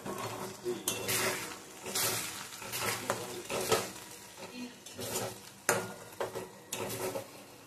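Chicken gravy with ginger-garlic-chili paste, cashew paste, fresh cream and milk being stirred in a pan, a steady sizzle under repeated scraping and clinking of the spoon against the metal, close and fairly loud throughout.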